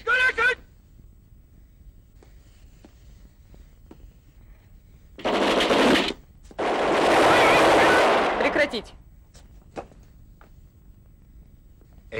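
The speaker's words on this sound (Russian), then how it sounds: "нам этот фейерверк очень нравится." Fireworks burst on a lit fuse in a 1968 Soviet Mosfilm film, coming as two loud sustained crackling, hissing roars after a quiet stretch with a few sharp pops and clicks.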